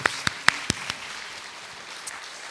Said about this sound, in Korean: 우리 한번 다시 환영하는 박수.